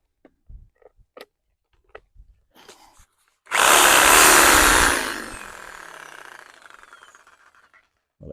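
A corded reciprocating saw starts up and cuts into a clay soil pipe, a loud buzzing burst that settles into a steadier rasping drone, preceded by a few light knocks and handling thumps.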